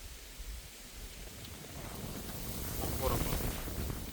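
Strong wind gusts across the microphone in a low, blustery rumble that builds gradually, with a faint voice mixed in, while fishing for crucian carp and carp with a float rod.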